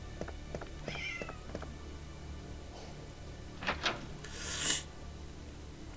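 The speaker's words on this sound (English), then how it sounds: "her meow transitioned into a yawn" A cat meows and then yawns indoors, giving a few faint close vocal bursts that stretch into a longer drawn-out yawn near the end, over a quiet room hum with soft rubbing noises earlier.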